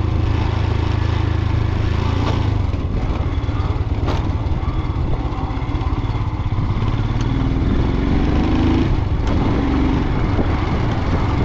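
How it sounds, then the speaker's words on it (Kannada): Motorcycle engine running steadily under engine braking on a downhill mountain road in Ladakh, a loud continuous drone with wind rush, no speech. "ಇಂಜಿನ್ ಬ್ರೇಕಿಂಗ್ ತಾನೇ ಕೆಲಸ ಮಾಡ್ತಿದೆ"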